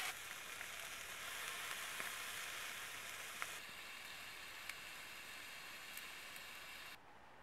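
Fallow deer meat sizzles steadily in a non-stick pan with no fat or oil, a soft continuous hiss with faint crackles, cooked outdoors on a cold winter night in the Black Forest mountains.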